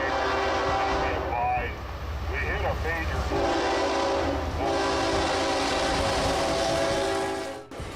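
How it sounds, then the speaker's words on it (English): A CSX freight train passing through Harrington Park, New Jersey, dragging a large tree along the tracks: loud continuous rumble and rail grinding close by, with a horn sounding throughout and voices underneath. "CSX train dragged a large tree along the tracks as it passed through Harrington Park, New Jersey"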